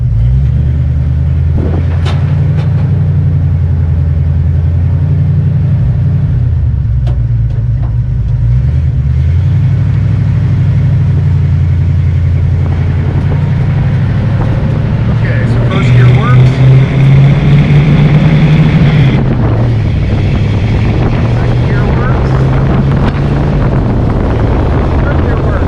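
A 1965 Mustang with a 289 engine runs steadily at close range, a low rumbling drone with slight shifts in pitch and rough patches, heard under wind buffeting throughout.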